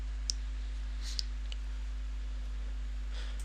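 A computer mouse clicking OK in Windows Server 2003, two or three faint, sharp clicks over a steady low electrical hum, with no voice.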